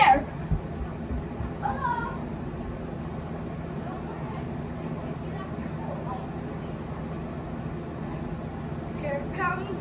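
A pet cat meows a few times at a beach outing, short rising cries near the start and again around the middle and end, heard over steady background hum with people talking nearby.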